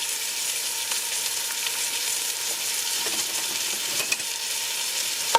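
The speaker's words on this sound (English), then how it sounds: "I'm gonna let this saute for about 2 to 3 minutes, everyone, before I add my garlic." Ginger sautés in a pan for pancit bihon, giving a continuous bright hiss and crackle of hot oil, close and even, with a couple of faint clicks near the end and no speech.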